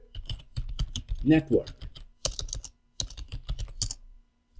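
Rapid keystrokes on a computer keyboard come in quick clustered bursts with short pauses, close and crisp, while a person talks over part of it.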